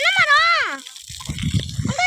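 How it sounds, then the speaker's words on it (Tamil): Water is let out and flows on a farm. A voice comes first, then a short run of close, uneven splashing and gushing. "இப்படி தண்ணி விடுறாங்க."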